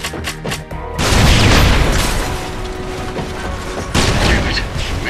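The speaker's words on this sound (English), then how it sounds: "We left some fuel tanks behind. You can shoot them or set charges to blow them up." Fuel tanks blowing up in Red Faction: Guerrilla, with a heavy booming blast around one second followed by rumbling debris and a second loud burst near four seconds, amid ongoing game noise.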